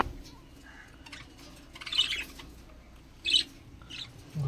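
Pet birds call from inside their cleaned nest boxes with faint, scattered chirps and a few sharper squawks. The calls are mostly quiet and sit close by, rising into brief louder bursts near the middle and end.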